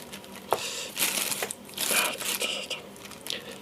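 A flimsy inner plastic bag is handled up close, producing soft irregular crinkles and rustling bursts with a sharper crackle or two, fairly quiet overall.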